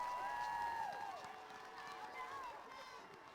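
Crowd cheering and applause at a high school Bear football game, a broad wash of noisy stadium cheer with whistles and shouted voices rising over it, sustained for a few seconds.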